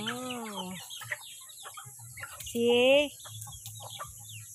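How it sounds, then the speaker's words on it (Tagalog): Native chickens on a farm give clucking calls and a rising squawk over a steady background hum, close by, with a brief spoken word. "Ito ang mga manok namin"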